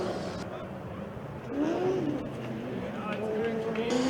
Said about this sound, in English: The engine sounds really good as he sets off in the first lap.